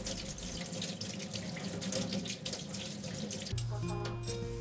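Tap water runs steadily into a sink as burdock root is washed under it. The flow is close and continuous, then shifts to a fuller, heavier stream partway through. No one speaks.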